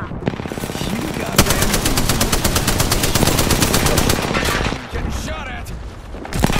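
Gunfire in the video game Apex Legends, rapid sustained automatic bursts rattling loudly and densely for several seconds, with brief pauses, and a voice talking underneath.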